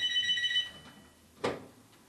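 A telephone ringing indoors in a TV studio, a short electronic trill at moderate volume followed by a brief sharp click.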